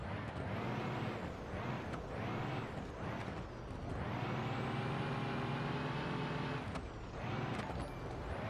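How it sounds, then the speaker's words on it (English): Automatic bus engine revved hard in neutral while the bus drifts sideways, a droning, surging roar that rises and falls with a couple of brief dips, moderately loud and continuous with no talk. "all I'm able to do is drop it into neutral, technically speaking, and then rev on it and pray that she stays sideways"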